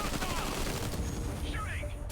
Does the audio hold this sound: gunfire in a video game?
yes